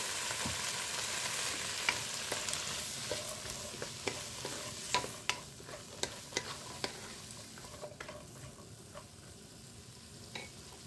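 Cabbage and other vegetables stir-fry in a pan for pancit canton with bihon, a continuous sizzling hiss with scattered taps and scrapes of a utensil as the food is tossed.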